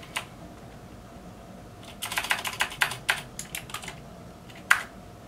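Second computer keyboard connected to a Linux computer, its keys pressed in a quick burst of about a dozen close, crisp clicks, then one last louder keystroke after a short gap.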